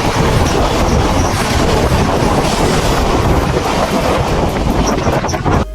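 The Basava Express, a Bagalkot–Mysuru diesel train, departs with loud, close, continuous rumbling and clattering of wheels on rails, plus some wind noise on the microphone.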